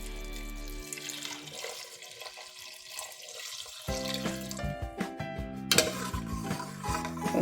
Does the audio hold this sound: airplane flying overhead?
no